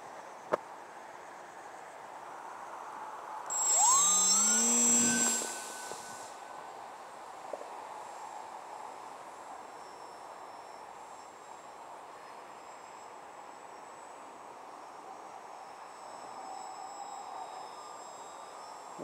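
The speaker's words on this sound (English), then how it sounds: "The Photon motor glider right there." A Photon motor glider passes overhead, its engine rising to a brief, fairly loud tonal drone and then fading away, leaving quiet outdoor background.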